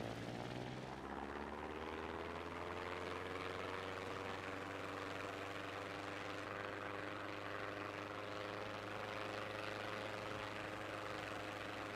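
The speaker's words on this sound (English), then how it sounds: "Like, even my airplane is pretty terrible, but it does fly." A small airplane in a video game drones along at a steady, continuous pitch, with its engine and propeller tone rising slightly at the start and then holding level with no talk.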